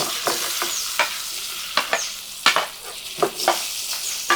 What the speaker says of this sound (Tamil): பன்னீரை நல்லா இப்படி நல்லா பெரட்டி எடுத்துக்கிறோம்